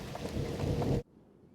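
Heavy rain pours steadily while thunder rumbles beneath it in a storybook-style fairy tale recording, a dense continuous roar that stops abruptly after about a second, leaving near silence.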